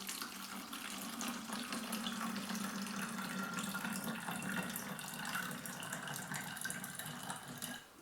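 Warm water runs and splashes steadily into bottles for a yeast experiment, a continuous close pouring and trickling sound with no speech over it.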